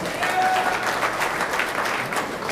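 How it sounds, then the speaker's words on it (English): Dense, steady applause rises from a large crowd watching a 9-ball pool match at a US Open tournament. The clapping is moderately loud and continuous. "the applause. A huge crowd here watching the Strickland match as well."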